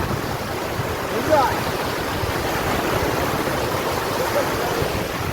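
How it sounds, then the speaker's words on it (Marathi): Swollen monsoon water rushing at Palasdhari Dam in heavy rain, a steady loud roar of turbulent, foaming current with a faint splash or two, heard nearby without talk. "पाण्या झोत जास्त आहे बघा थोडं वाढलंय पाणी"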